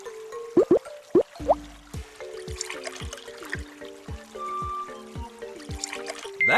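Animated water pours out of an egg to fill a hole, heard as a series of bright cartoon drips and glugs that trickle in uneven steps, with no talking.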